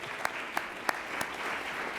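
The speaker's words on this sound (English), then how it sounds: "so you can all clap for yourselves" An audience at a Columbus Metropolitan Club forum applauds with a continuous wash of clapping, a few sharper, louder claps standing out at regular intervals near the front.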